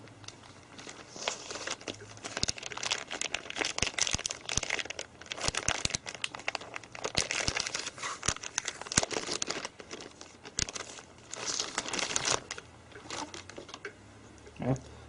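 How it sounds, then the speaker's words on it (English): Plastic packaging crinkles and tears as a new replacement LCD screen for an HP laptop is unwrapped, with close, irregular rustling bursts throughout and a voice talking at times. "We can unwrap our new LCD."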